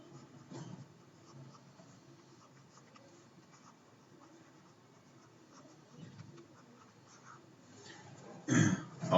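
A teacher writes on a board during a class, giving faint, soft scratching strokes under quiet room noise, with a few louder knocks near the end.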